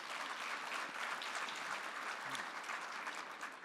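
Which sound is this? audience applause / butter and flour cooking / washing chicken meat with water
audience applause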